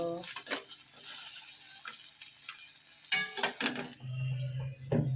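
Okra pieces frying in a pan until reddish, a steady broadband sizzle with scattered clicks of stirring, ending in a brief lower-pitched hiss or scrape.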